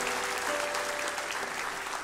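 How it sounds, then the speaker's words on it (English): A rally crowd claps loudly and continuously, dense overlapping hand claps filling the whole moment without a break. "Yeah, you can clap."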